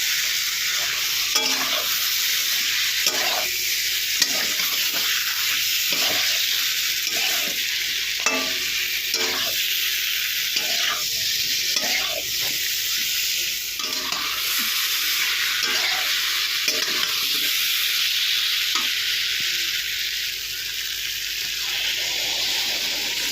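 Spiced masala with tomatoes and potatoes fries for a fish curry, a continuous loud sizzle with repeated scraping stirs at a regular pace, close by.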